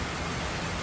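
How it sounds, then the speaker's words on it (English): Heavy rain pours steadily in Guyana during a stretch of strong wind and dark clouds, a dense, even hiss of water that fills the short moment without any break. "Well, yes. It's falling. We haven't had this amount of rain in recent time."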